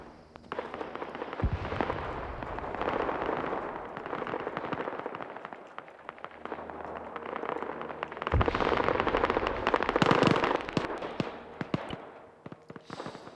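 Gunfire from a live fire exercise in an online SCP stealth-and-loud operation fills a dense, continuous barrage of cracking shots and bursts, with heavier volleys swelling near the start and again toward the end before tapering off.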